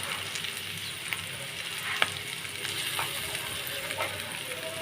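Taro greens fried in a pan with salt and turmeric give a dense, close, continuous sizzle, with occasional sharp scrapes and taps as they are stirred, while a shrimp and taro-leaf dish is cooked.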